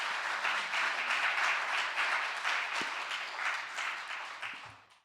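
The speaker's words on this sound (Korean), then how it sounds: "강사님 나오실 때 우리 박수로 환영하시겠습니다." A church congregation gives welcoming applause at a regional revival meeting, a steady dense clapping that holds for several seconds and then tapers off at the end, with no talking over it.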